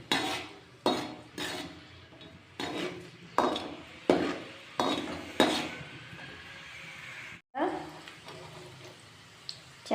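A utensil stirs peanuts roasting in a pan, scraping and clinking against the metal in a repeated rhythm of sharp strokes, close and moderately loud, with faint talk in the background.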